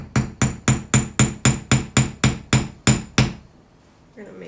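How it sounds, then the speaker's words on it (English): A hammer strikes a jewelry piece eleven times in a quick, even rhythm, each blow a sharp metallic tap close by, followed by a brief quiet. "So then we're gonna just hammer this."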